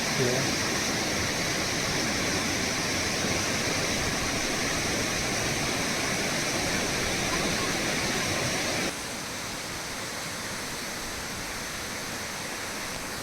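Beema Falls waterfall in the Javadhu Hills near Jamunamarathur, a steady, loud broadband roar of falling water that continues unbroken throughout, dropping slightly in level near the end.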